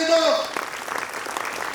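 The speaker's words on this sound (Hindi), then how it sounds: "तो चाहता हूं जोरदार तालियां उन जवानों के लिए" A poetry gathering's audience claps: a short burst of crowd applause swelling under a speaking voice, filling the brief moment.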